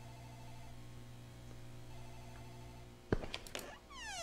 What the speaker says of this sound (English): that's the phone in the office ringing